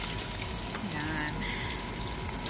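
A little water poured into a pan of frying dumplings, a brief hissing splash and sizzle over steady background noise with faint voices.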